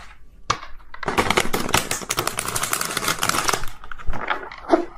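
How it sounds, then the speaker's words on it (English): A tarot card deck is shuffled by hand, producing a dense, rapid flurry of crisp card riffles and slaps lasting several seconds, close and fairly loud, with no speech. "So hard to shuffle this deck."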